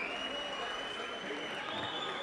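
An audience at a symphonic rock concert applauds in a brief burst of dense clapping, steady and fairly distant, with a faint tone ringing above it.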